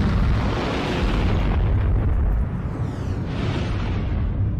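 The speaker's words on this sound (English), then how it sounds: "This is what an uncontained 500-kilogram explosion can do." An uncontained 500-kilogram explosion sends out a sustained, loud, broadband roar and rumble that holds steady for several seconds and then eases slightly.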